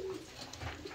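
Pigeons coo softly in a rooftop loft, a brief low murmuring call barely above faint background noise.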